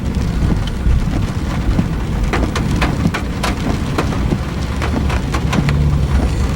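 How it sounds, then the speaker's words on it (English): Heavy rain pours steadily during a Kentucky storm in March 2017 beside a road partly flooded with running water, a dense, continuous hiss with scattered sharper drop impacts throughout and no voices. "we've had some rain, that's for sure"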